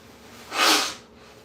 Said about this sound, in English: I've been blowing my nose